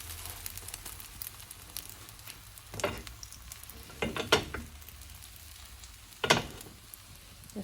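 Egg frying in a pan and being flipped to cook the other side: steady soft sizzling throughout, broken by a few sharp scraping clatters of the spatula against the pan.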